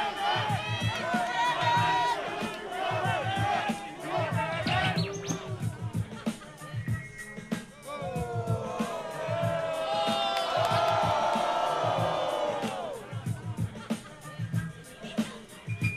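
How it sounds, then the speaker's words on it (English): A crowd at a rap battle taunts a rapper with loud, overlapping shouts, jeers and whoops over a pounding beat, rising into a dense roar in the middle. "The crowd began to taunt him."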